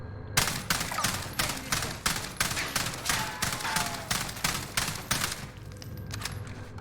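An AUG rifle on rapid fire in the Warzone video game shoots about fifteen even, closely spaced shots in a steady rhythm. Each report is crisp and loud, with a short tail between shots.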